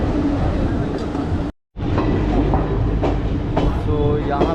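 The Haldibari–Kolkata Superfast Intercity Express pulls out of a station on time, a loud continuous rolling rumble with rhythmic clickety-clack from the wheels, broken by one brief gap, with background voices.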